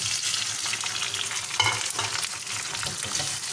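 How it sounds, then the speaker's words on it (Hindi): Tomatoes drop into a pan of sizzling onion, ginger and green chili. A loud, close, continuous frying hiss swells briefly as they hit the hot oil. "अब हम इसमें टमाटर डालेंगे।"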